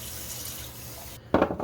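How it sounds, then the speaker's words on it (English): Tap water bursts on and runs over rinsed items, such as strands being straightened, in a sink; the flow starts abruptly near the end after a quiet room hum. "I'm gonna run these under water, and I think that'll help straighten these out"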